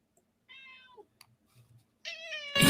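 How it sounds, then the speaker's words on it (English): A pet cat meows to be fed, one drawn-out meow followed by faint shuffling, then a louder, insistent second meow close by with a sudden clatter at the end. "That's my dumb cat. Wants me to feed him."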